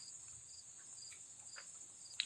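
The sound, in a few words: crickets chirping outdoors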